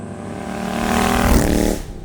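A custom-built Royal Enfield motorcycle engine runs close by, a low throbbing rumble that swells in a short rev and then eases back off.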